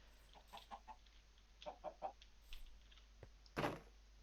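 Chickens in modded Minecraft give short, quiet clucks in a few separate clusters, ending with a slightly louder squawk near the end. The surroundings are otherwise silent.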